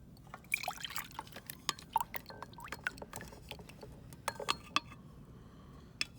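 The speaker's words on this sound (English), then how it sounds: "I'm just going to pour this directly in the beaker" Lab liquid poured into a glass dump beaker, faint splashes and scattered drips and clinks spread over several seconds, quiet and close, with no talking.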